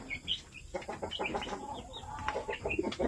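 Japanese Shamo chickens in a backyard breeding setup cluck and make short, scattered calls, fairly faint and irregular, with no talk over them.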